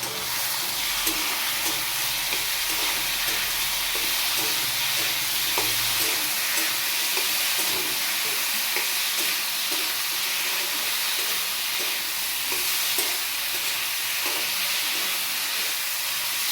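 A spice paste of green chilli, cumin and ginger frying in a pan: a loud, continuous close sizzle and hiss, punctuated by soft periodic stirring scrapes, with no voices.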